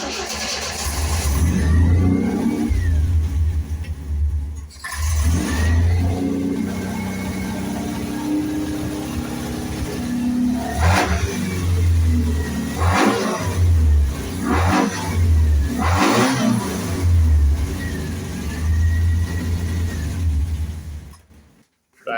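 A 1970 MGB GT engine cranking and catching, then revving hard with rising and falling surges over steady running, loud and close, with a few brief pauses between bursts.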